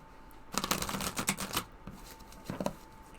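Thoth tarot cards are shuffled and pulled in a quiet room, a soft burst of riffling flutters followed by a few brief card snaps, close and faint.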